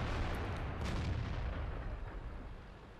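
A tank's cannon booms in a game battle aimed at an ISU, one heavy low blast that rolls and fades over a few seconds, with no voice.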